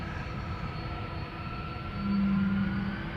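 A Delta Airlines jet at Amsterdam Schiphol Airport spools up its engines, a broad steady roar with a rising tonal whine that swells louder toward the end, heard from a distance.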